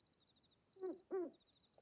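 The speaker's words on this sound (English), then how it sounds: "hearing hoot owls?" Owl hooting in the game Wylde Flowers: two soft, separate hoots close together, quiet and alone against a faint steady background tone.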